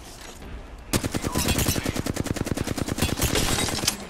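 Rapid automatic gunfire in a video game, a dense burst of evenly spaced shots lasting about three seconds after a brief quiet start, loud and close.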